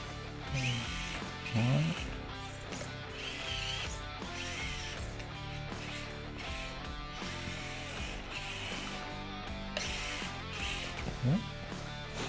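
A small Axial SCX24 Jeep Wrangler RC crawler runs at full throttle back and forth on a kitchen floor, its tiny motor and gears giving a steady whirring, ratcheting whine, close and continuous, with a few brief higher squeals.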